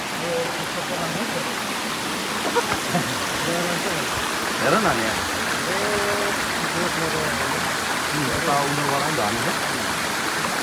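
Water from the streams and waterfall at Fall Creek Falls, Tennessee, rushes in a steady, close, continuous wash, with people talking over it at times.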